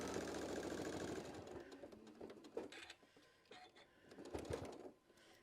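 A sewing machine runs stitches across a fabric seam while a four-patch bowl cozy is being sewn, giving a close, steady mechanical whir with a rapid stitching rhythm that varies in intensity and eases near the end.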